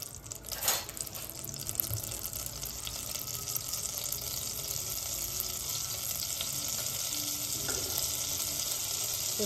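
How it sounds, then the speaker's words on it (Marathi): Oil and butter melting and sizzling in a pan for tava pulao, a steady close hiss that holds evenly throughout, with no talking. "तेल आणि बटर आपलं एकत्र होऊन आता मेल्ट व्हायला लागलेलं आहे"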